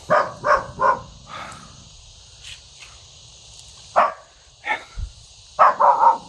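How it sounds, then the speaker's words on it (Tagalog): A dog barks in short bursts, a quick triple at the start and more later, with crickets chirping steadily in the background. "May aso tayo narinig dito."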